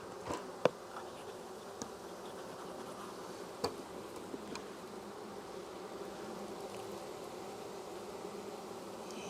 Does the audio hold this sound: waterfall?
no